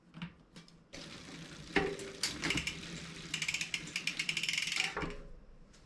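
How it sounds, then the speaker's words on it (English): Chain on a mountain bike's rear derailleur rubbing against the next gear while the cranks turn, producing a close, continuous rattling whir with rapid ticking clicks that grows busier before stopping, with no talk. "We can hear just a little bit more noise still with the chain hitting up against the next gear."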